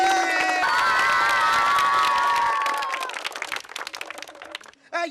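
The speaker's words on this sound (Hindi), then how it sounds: "बच्चा लोग बजाओ ताली" A group of children clap and cheer together in a loud, lively crowd, with shouting voices over the clapping that thins out toward the end before a short final burst.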